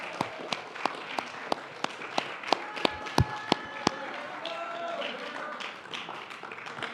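Sparse, rhythmic clapping from a small crowd at a middle and high school awards ceremony, honoring an eighth-grade nominee. Crisp single claps land about three times a second, then thin out and fade into room murmur.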